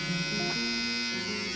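A Kemei 1974B hair clipper runs continuously, giving a steady, moderately faint electric buzz with no pauses.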